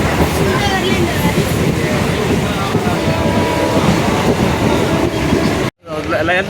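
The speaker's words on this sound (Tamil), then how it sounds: "இதுதான் இந்த ரயில் வருது பாருங்கள்" A MEMU passenger train between Villupuram and Puducherry rumbles along the tracks with steady, dense clatter and roar, close and loud, then cuts off abruptly near the end.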